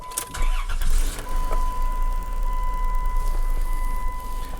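A Dodge Caravan minivan engine cranks and catches, then settles into a steady idle with a faint high whine running through it.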